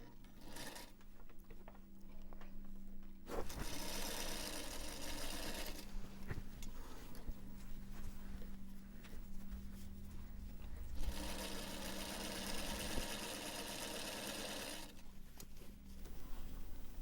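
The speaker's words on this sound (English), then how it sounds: "I'm going to sit down at the machine and I'm going to just top stitch it on" A sewing machine top-stitches ribbon onto a bag, running in long steady bursts of motor whir separated by short pauses, close and moderately loud with a faint background hum throughout.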